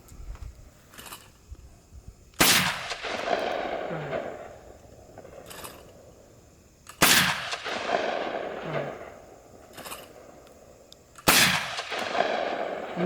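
A Benelli Super Black Eagle III shotgun fires three loud, sharp shots outdoors several seconds apart, each with a rolling echo fading into the distance, and faint quieter pops between them.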